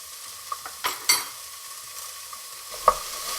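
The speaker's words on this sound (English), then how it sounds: "we're going to use our 2 tablespoons of oil to saute our fennel and onion" Fennel and onion sauté in two tablespoons of oil, a low steady sizzle broken by a few sharp scrapes and knocks of a utensil against the pan.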